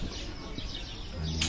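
Birds twittering in a tree by a seaside marina on Lanzarote, with soft chirps and clucking calls scattered through faint background noise, fairly quiet and close.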